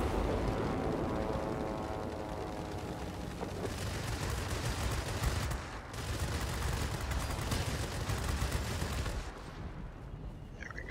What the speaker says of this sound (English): so these cannons don't overheat